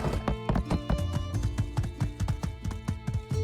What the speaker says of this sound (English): Well, you're getting your workout today, horse.